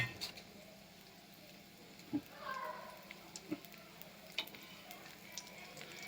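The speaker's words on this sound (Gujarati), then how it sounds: "હવે આપણું તેલ ગરમ થઈ ગયું છે. હવે તેની અંદર હું આ લીમડો અંદર એડ કરું છું." Curry leaves sizzle faintly in hot oil while Papad Pauva Chevado is being made, a steady soft hiss with occasional small pops and stirring taps.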